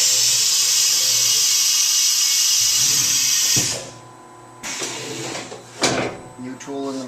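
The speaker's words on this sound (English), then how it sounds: "Spindle orients. Carousel rotate." Fadal 4020 CNC machining center with a Fanuc 18iT control: a steady high mechanical whir runs loud for several seconds, then cuts off, followed by quieter clunks, whirs and clicks as the spindle orients and the tool carousel rotates.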